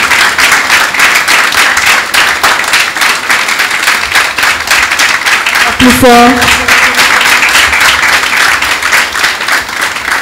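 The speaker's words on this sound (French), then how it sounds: "Nous allons recevoir avec des applaudissements bien mérités" Audience applause welcoming a guest speaker at a French-language talk on language learning, steady dense clapping throughout, loud and close, with a brief voice and tonal sound partway through.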